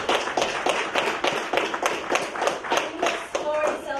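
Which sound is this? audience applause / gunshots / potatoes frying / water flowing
audience applause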